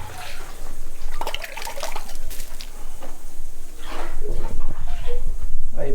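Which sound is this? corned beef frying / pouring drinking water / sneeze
pouring drinking water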